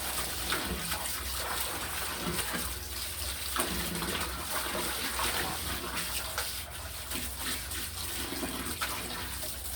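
Heavy water pouring and splashing down continuously from above, a loud, steady gushing stream with no voices.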